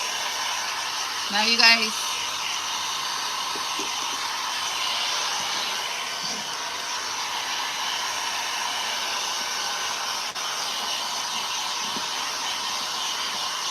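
A hair dryer blows steadily on a thrifted frame being upcycled into a cottage-chic craft, a loud constant whooshing hiss throughout, with a brief spoken line near the start.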